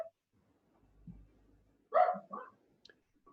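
A dog indoors gives a couple of short, sharp barks close to the microphone, followed by a few fainter yips, in an otherwise quiet room.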